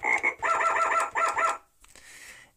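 A string of quick, buzzy frog croaks from an electronic musical instrument's sound effect, in a steady rhythm, followed by a brief fainter rasp before silence.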